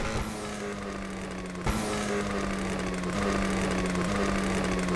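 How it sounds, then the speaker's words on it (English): Supercar exhaust crackles and pops in GTA Online over a steady, loud engine drone at speed, with one sharp burst partway through and the engine note continuing throughout. "Those are some nice crackles this car has."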